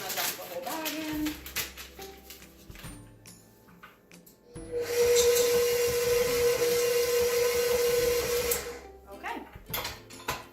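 A stand mixer folds a bag of white chocolate chips into banana cookie dough, its motor whirring loud and steady for a few seconds in the middle, with clattering and handling noises before and after.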